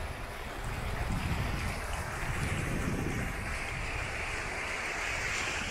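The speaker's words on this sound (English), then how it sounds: "River looks a little lower. It is running" Water in a river near a hiking trail in Auburn, California, flows in a steady, unbroken rush, loud and close, with no voices over it.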